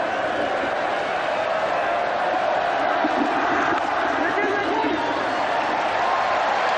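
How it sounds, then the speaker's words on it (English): Steady roar of a large cricket crowd at Eden Park during a 1992 World Cup semi-final, a dense continuous wash of voices filling the whole clip. "listen to the crowd."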